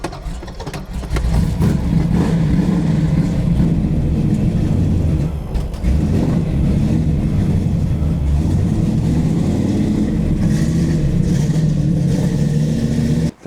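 A turbocharged Nissan 240SX that had sat for years fires up and settles into a loud, steady running engine close by, holding a rough, even note for over ten seconds before cutting off.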